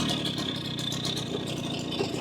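Garelli 70cc moped engine running steadily in first gear, a continuous close buzzing drone with a light rattle throughout, no voices.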